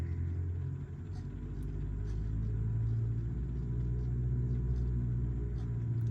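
A Cessna 172 engine in a home-cockpit flight simulator, throttled up on the ground with the parking brake set, gives a steady low droning rumble that swells slightly and holds, loud and continuous with no speech over it.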